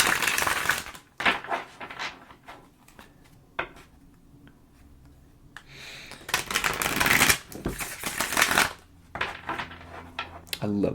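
Tarot cards are riffled and shuffled in close, crisp bursts of rapid fluttering clicks, separated by short quiet pauses.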